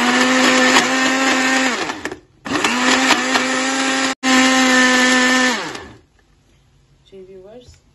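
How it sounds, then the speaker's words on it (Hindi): A blender whirs loudly as it mixes a chocolate Nutella shake. It runs in three roaring bursts separated by short pauses, and the motor pitch dips as each burst winds down. A faint voice speaks briefly after the last burst. "चलिए अब इसको ब्लेंड कर लेते हैं।"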